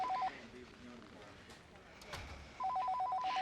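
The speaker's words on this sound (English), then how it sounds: "My phone's ringing." Two bursts of an electronic telephone ringtone, one at the start and one near the end, sound at moderate level while quiet dialogue goes on between them at a formal gala dinner.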